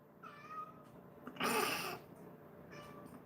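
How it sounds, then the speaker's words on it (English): A cat meows several times in a home shared with many cats, with short harmonic cries early and late and a louder, broader cry in the middle, close to the microphone. "Meow."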